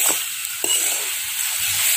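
Greens with grated coconut and two green chillies frying in a pan, a steady close sizzle with a few soft stirring scrapes, and no talking.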